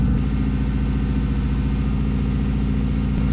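A 1988 Ford Thunderbird Turbo Coupe engine, back running after sitting for 20 years, idles high with a steady, even, throbbing rumble. It is close and loud and unbroken throughout, with no talk.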